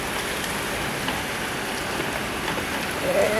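Heavy rain pouring and rushing down a street outside, a dense continuous hiss that stays loud and even throughout, with no talking.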